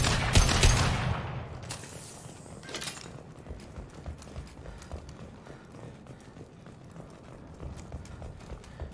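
Gunfire in the Mass Effect 2 video game: a loud burst of shots at the start, then a long run of rapid, evenly spaced shots continuing more quietly to the end.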